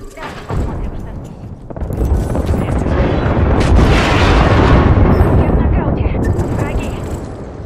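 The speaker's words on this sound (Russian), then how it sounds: "Кидаю осколочную." A frag grenade goes off in the Apex Legends game on PS4, a loud, sustained booming blast that swells and rumbles for several seconds with rolling low-end debris, alone with no talk over it.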